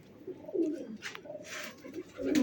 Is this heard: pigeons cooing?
yes